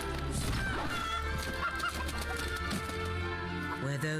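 Chickens clucking in the video game Fable 3, mixed under dense orchestral game music with a honking, fowl-like call rising through the steady score.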